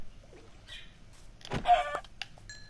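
A few faint bird calls and clucking sounds in the background of a Minecraft game, with a brief louder burst of activity partway through, no speech.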